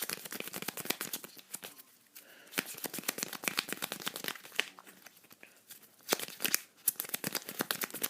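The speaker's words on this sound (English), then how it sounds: "As you can see, the more cards you have while shuffling, it's going to be more difficult." Playing cards are hand shuffled and slid, with rapid, dense riffling and crisp flicks close up that run in quick bursts with brief pauses.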